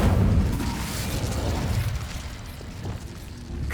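A fiery whoosh and rumbling burst from the Incendio fire spell in Hogwarts Legacy, loud at the start and trailing into a sustained roaring crackle.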